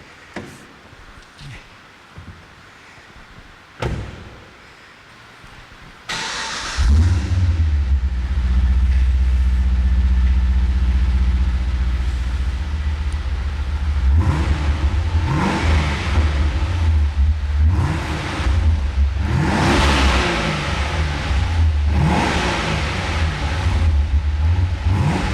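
A car fitted with a Tidd Bros exhaust system starts up after a few quiet knocks, then idles loudly and revs repeatedly, with the engine note rising and falling in close, deep surges.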